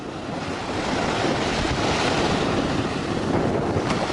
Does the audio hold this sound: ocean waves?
yes